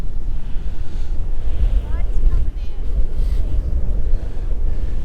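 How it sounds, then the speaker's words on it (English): Strong, steady wind on a beach buffets the microphone with a constant low roar, faint surf-like rush underneath, and a brief voice partway through. "It's pretty windy."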